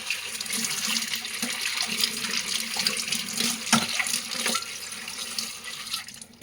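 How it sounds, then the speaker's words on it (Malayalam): Water is poured and splashes over brass pooja utensils, a continuous running gush with clinks and drips, fairly close and uneven in strength. "ഇനി ആദ്യം വെള്ളം ഒഴിച്ചൊന്ന് കഴുകാം"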